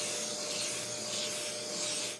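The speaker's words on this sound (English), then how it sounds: "Make sure you vacuum all the dust off of there." A vacuum cleaner sucks sanding dust out of the pores of a wood surface before pore filling, a continuous close whooshing roar with rubbing texture, steady throughout and cutting off at the end.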